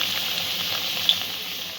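Frying in a pan for a simple chicken curry gives a steady, close hiss of sizzling oil with one small pop partway through and no voices.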